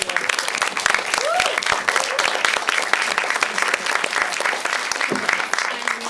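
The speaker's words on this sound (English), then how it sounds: "Can I ask that we give our panelists a round of applause?" Audience applause for panelists at an environmental justice event, a continuous patter of many hands clapping at moderate loudness, with a few faint voices mixed in.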